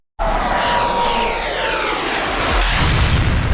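Loud whirring helicopter engine noise in a Los Santos video game raid roars continuously, with a deep rumble swelling near the end like a blast or heavy impact.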